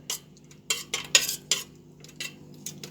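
A metal spoon scrapes and clinks against a cooking pot while stirring thick cornmeal porridge, in a quiet, irregular run of short, close taps and scrapes.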